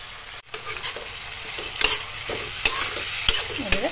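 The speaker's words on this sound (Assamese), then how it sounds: "এনেদৰে তলফৰ কৰি লৰাই দিলোঁ" Cut potato pieces sizzle and fry in a pan while being stirred. A spatula scrapes and taps the pan in repeated strokes over a constant crackle, close and loud, and no one talks.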